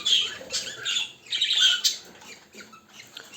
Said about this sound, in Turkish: Papağan yavrularımız çıktı. Onların sesleri geliyor.